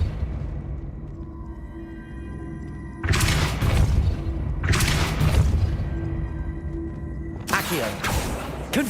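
The Depulso spell fires in Hogwarts Legacy on PS5 as three sharp, booming force blasts, each with a crashing rumble, spaced a couple of seconds apart between quieter game ambience and a voice speaking.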